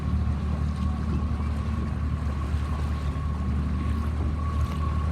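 Strong wind blowing across a Sabot dinghy under sail during an under-12 regatta, a steady loud roar of wind noise with rushing water and a faint constant tone, with no pauses.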